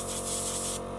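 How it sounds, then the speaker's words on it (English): Steady hissing of an airbrush spraying blue paint onto a miniature's sword, a close, continuous airy rush that softens slightly near the end. "start off by airbrushing the sword"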